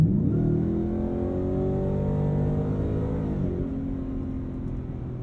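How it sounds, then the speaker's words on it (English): A deep, throaty supercharged V8 in a Ford F-150 Raptor R pickup revs up close and loud, then the rumble slowly settles back down. "I just get a lot of that guttural V8."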